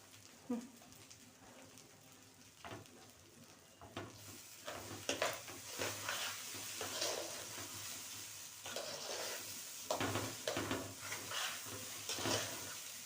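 Rice being sautéed over the flame in oil or ghee in a pot for a wedding-style rice dish, with soft sizzling and repeated spoon scrapes and stirring knocks, growing busier and louder as it goes on.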